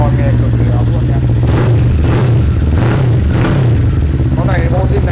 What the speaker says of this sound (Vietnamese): Nghe bô, nghe súng con, nghe cực kỳ ấm luôn nha.